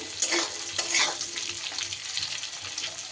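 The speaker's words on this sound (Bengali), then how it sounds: "আলুটা দিয়ে একটু নাড়াচাড়া করে নিয়ে, খুব মচমচে করে তো ভাজার দরকার নেই" Potatoes sizzle in a pan while a utensil stirs and scrapes through them, with soft irregular clatters over the steady frying hiss.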